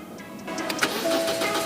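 An older Mitsubishi Carisma that had been sitting unused cranks briefly and catches, its engine starting within a second or two, fairly quiet and close.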